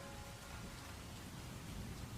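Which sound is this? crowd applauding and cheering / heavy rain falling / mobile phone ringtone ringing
heavy rain falling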